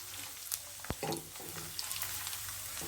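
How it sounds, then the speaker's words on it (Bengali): Three medium-sized chopped onions go into hot oil and get a brief stir, a quiet low crackle with a few sharp spoon taps and scrapes over a short moment. "এখন এর ভিতর আমি দিয়ে দেব 3টা মিডিয়াম সাইজের পেঁয়াজ কুচি। দিয়ে আমি একটু নাড়া দেব"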